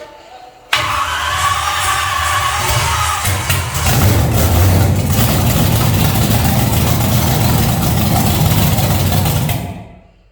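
A twin-turbo big-block Chevy engine fires up with an abrupt catch, then settles into a loud, rough, rumbling run that holds for several seconds before cutting off.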